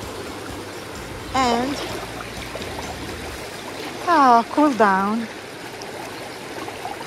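A river stream at Furnas on São Miguel in the Azores flows with a steady, hissing wash throughout, while a person talks over it in short bursts.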